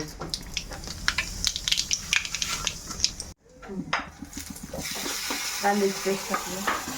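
Cumin seeds go into hot oil for chole, crackling with dense sharp pops and utensil scrapes, a brief silent gap, then a steadier loud sizzle, close with little talk.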